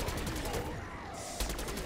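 The Beamsmasher wonder weapon firing in Black Ops 6 zombies, a rapid, rhythmic stream of pulsing blasts with a heavier thump near the end, fairly quiet in the mix.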